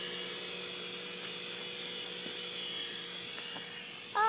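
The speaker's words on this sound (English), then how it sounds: "Go up, helicopter." Toy remote-control helicopter hovering indoors, its small rotor and motor giving a steady high whine with a thin buzzing tone, close by and continuous, growing louder in the final moment.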